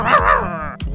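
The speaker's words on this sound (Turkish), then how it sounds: "Köpek niye havlıyor?" Dog barking in the Minecraft video game, a single short, loud, tonal bark followed by a brief second yip, close and alone.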